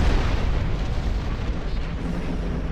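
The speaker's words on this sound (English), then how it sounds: "Bloody hell, that's quantum torpedoes!" Quantum torpedo explosions in the Star Trek Online space game: a continuous, loud, deep rumbling roar of blasts with no clear gaps, heard without any voices.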